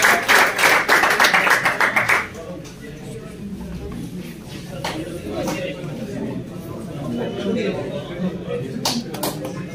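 At an award ceremony for a Kashmir pigeon sports club car cup, a crowd bursts into brisk, loud applause for about two seconds, then a murmur of voices and scattered claps carry on underneath.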